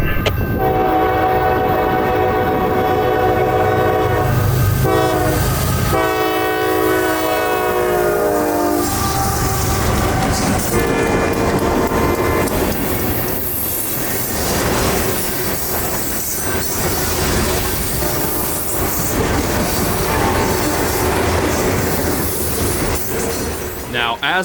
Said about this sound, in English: Southbound manifest freight from Radnor Yard at Nashville to Howell Yard, Atlanta, with an interesting slug set pair in tow